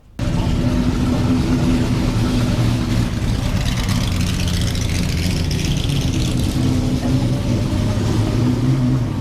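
Jaguar prototype race cars at the Goodwood Festival of Speed roar past at speed, a loud sustained engine drone with rising and falling pitch sweeps as the cars accelerate and pass, no talking.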